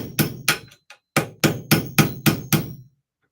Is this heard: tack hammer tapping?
yes